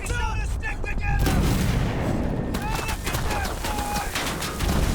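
Dense WWI battlefield combat from the VR game War Remains, with continuous gunfire, rifle volleys and booming explosions filling the scene loudly, while voices shout over the din.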